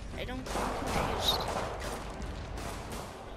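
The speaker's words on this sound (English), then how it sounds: "Who are you shooting at, cops?" Gunfire in the video game Marvel's Spider-Man: a rapid run of sharp shots crackles steadily at moderate loudness, with a voice heard partway through.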